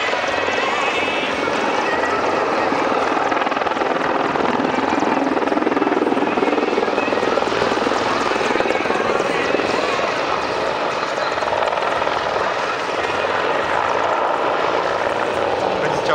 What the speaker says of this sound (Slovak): Časom môžeme obdivovať hlavný tanec vrtuľníka Mi-24 pred vašim dvermi.